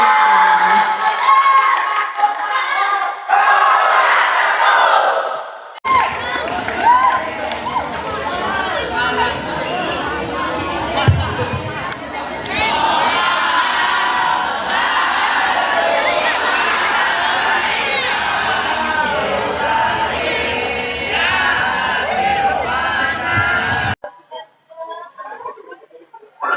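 An audience at an Islamic boarding school student speech contest claps, cheers and shouts with lively crowd chatter. The noise is loud and sustained for most of the stretch, then cuts off near the end.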